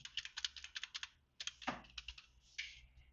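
Computer keyboard keys are tapped in quick close clicks, a rapid run of presses, a brief pause, then more keystrokes, including a Ctrl+D shortcut, with no talking.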